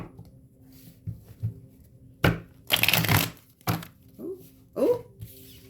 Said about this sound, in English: I'm actually going to shuffle these.